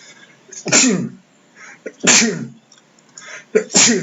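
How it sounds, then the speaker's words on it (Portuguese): Three loud, close sneezes from one person, each a sharp burst preceded by a brief inhale, spaced about a second and a half apart with quiet gaps between. "Nossa, 4 espirros, hein?"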